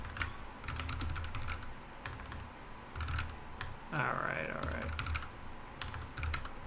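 Steady clatter of typing on a mechanical computer keyboard, keys struck in quick irregular bursts close by, with a brief spoken word partway through.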